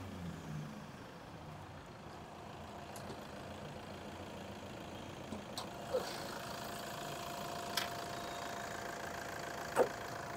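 A used Toyota Fortuner with a 3.0 engine idles with the hood open, giving a steady, fairly quiet low engine drone with a few faint clicks and taps over it and no talking.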